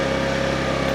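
A motorcycle engine runs close and loud at a steady low hum, with no break or change across the short stretch.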